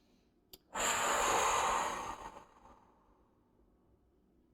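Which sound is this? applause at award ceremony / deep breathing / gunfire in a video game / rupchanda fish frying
deep breathing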